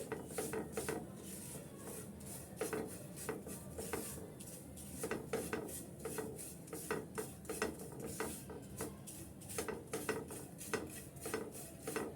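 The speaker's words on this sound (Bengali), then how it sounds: "সুজিটাও আমি একটু ঘির উপরে ভেজে নিচ্ছি" Semolina is stirred and toasted in ghee in a pan, making a soft gritty scraping in a steady rhythm of repeated utensil strokes with faint metallic clinks, quiet and close.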